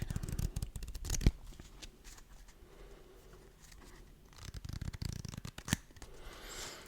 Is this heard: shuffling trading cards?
yes